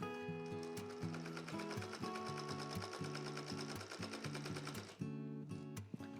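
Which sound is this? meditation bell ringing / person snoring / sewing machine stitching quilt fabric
sewing machine stitching quilt fabric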